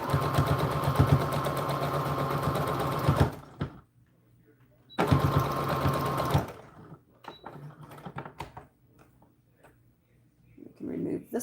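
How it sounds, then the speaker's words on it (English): A sewing machine runs forward and then in reverse to lock a seam on a doll dress: two loud, fast rattling bursts split by a pause, followed by quiet handling noises. "We just go forward and backwards to tie up our seam so it doesn't ravel."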